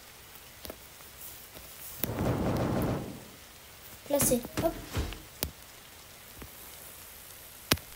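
Rain falls in the survival game 99 Nights in the Forest as a steady hiss, briefly louder in a swell, with a few sharp clicks and bumps and a person speaking briefly.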